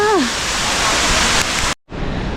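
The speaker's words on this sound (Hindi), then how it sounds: "ये है मेन पॉइंट वाटरफॉल का।" A waterfall on the Double Decker Root Bridge and Rainbow Falls trek roars loud and close as a dense, steady rush of water, with a brief voice at the start and a momentary cut near the end.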